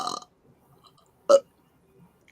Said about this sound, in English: Oh, I feel a burp coming.